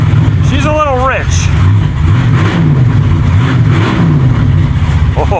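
An old truck, back on the road after 30 years and running rich, revs its engine in repeated rising and falling surges, loud and close, with a voice briefly over it.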